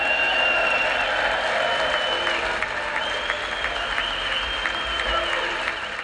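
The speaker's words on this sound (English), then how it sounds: "they will seriously just clap for anything" Congress audience applauding at a Trump State of the Union address, a sustained wash of many hands clapping in a large chamber, steady and fairly loud for several seconds.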